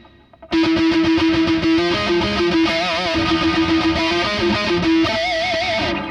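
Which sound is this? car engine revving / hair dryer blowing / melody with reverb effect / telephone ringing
melody with reverb effect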